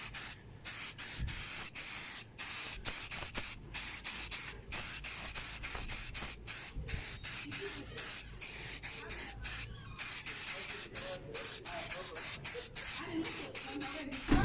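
Long continuous hiss of an aerosol polish spray can on motorcycle plastic, steady and close, broken by brief gaps between bursts.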